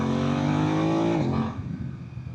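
A 2025 BMW F 900 R motorcycle engine holds a loud, buzzy high-rev whine, then drops sharply as the quick shifter clicks through a gear, its tone falling and fading.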